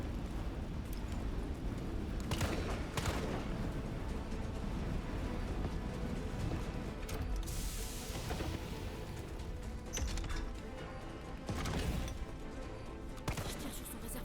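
Gunfire from the Resident Evil 3 remake, with repeated bursts of shots and booming impacts scattered over a dense, noisy game soundscape.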